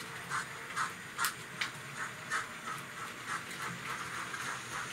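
A model railway N7 steam locomotive sound plays quietly, giving a faint, regular chuffing with soft hissing bursts in a steady rhythm.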